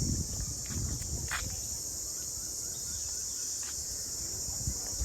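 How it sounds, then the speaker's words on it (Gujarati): Crickets chirp outdoors in a botanical garden, forming a dense, continuous high trilling chorus that fills the whole stretch at a moderate distance, with faint rustles and the odd soft thump underneath. "અત્યારે સાંભળો તમરા કેવા બોલે"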